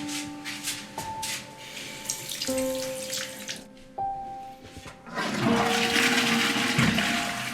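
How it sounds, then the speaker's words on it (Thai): A household toilet flushes with rushing water and a filling tank, preceded by steady tonal hum, a close, loud wash of water swelling in the second half with no talking. "แล้วค่อยกดชักโครกครั้งเดียวกดแบบนี้มันเปลืองน้ำมากรู้ไหม"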